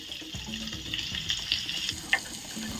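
Garlic, green chilli and onion sizzling steadily in a pan as they are stirred, with a few scraping clicks of the spoon against the pan, close by and moderately loud, no voices.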